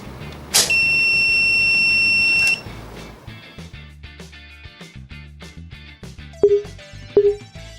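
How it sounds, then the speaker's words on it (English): An electronic buzzer on a Bluetooth door keypad sounds one long, loud, shrill tone for about two seconds, followed later by two short beeps, with quiet clicks and knocks between them. "Alarm will be activated if door is left open."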